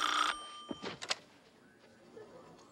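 An old telephone ringing in an office scene from a comedy TV series, a brief bright bell ring followed by a few sharp metallic clicks and clunks, then quiet room tone.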